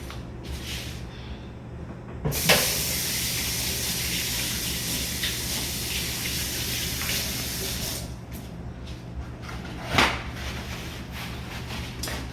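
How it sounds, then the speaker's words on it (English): Tap water runs steadily into a sink during handwashing in a home kitchen, a continuous broadband gush with a couple of brief splashy bursts, close and fairly loud, no talking. "Let me wash my hands."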